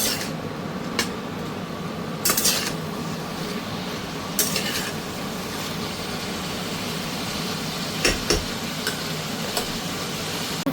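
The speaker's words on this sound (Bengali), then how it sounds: "উচ্ছে ভাজা হচ্ছে।" Bitter gourd fries in a pan with a steady low sizzle, broken by several sharp clinks and scrapes of a spatula stirring against the pan.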